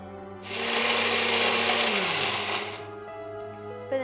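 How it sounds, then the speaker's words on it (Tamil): A mixer grinder runs for roughly two and a half seconds, grinding a spice paste loosened with a little water, a loud dense whir that sags in pitch as it slows and stops. "இது கூட கொஞ்சம் இப்போ தண்ணி ஆட் பண்ணி அரைச்சிக்கலாம்."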